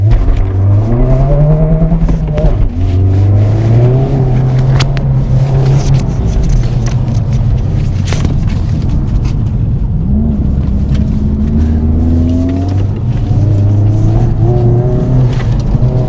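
A car accelerating hard around an autocross course on Hoosier TrackAttack Pro tires: a loud, close engine climbs and drops in pitch through repeated surges, with no talk for the whole stretch.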